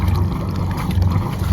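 A small boat's outboard motor runs steadily at low assist power during a solo sea outing, a continuous close low rumble with wind noise over the microphone and no talking.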